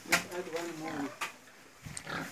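Pigs on a farm, including a Large White, grunt and snuffle at close range in a few short bursts, mixed with quiet voices nearby.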